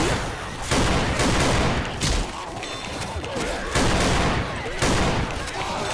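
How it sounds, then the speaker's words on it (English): Rapid gunfire in the zombie shooter game Left 4 Dead 2, with dense bursts of shots repeating in clusters at close range, loud throughout. "I shot right in between them and didn't hit a single one."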